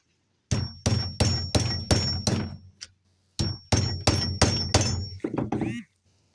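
A hammer strikes a quarter-inch drive socket set over a burr, driving it down onto a rivet: two bursts of steady, sharp metallic blows, six then five or six in quick rhythm, close and loud with a faint ringing tone.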